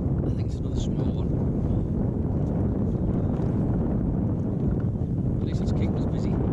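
A westerly wind at sea buffets the microphone on a small fishing boat, a steady broadband roar that lasts throughout and never lets up.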